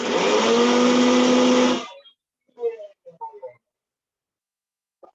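An electric kitchen mixer grinds digestive churna powder with a loud, steady whirring roar for about two seconds, then stops abruptly, followed by brief faint speech.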